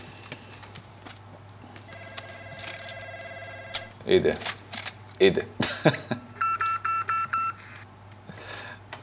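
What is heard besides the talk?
telephone ringing in a video game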